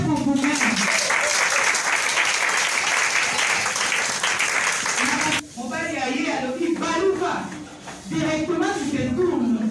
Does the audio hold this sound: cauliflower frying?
no